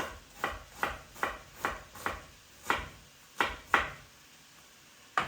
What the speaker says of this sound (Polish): I cebulę kroję w kostkę.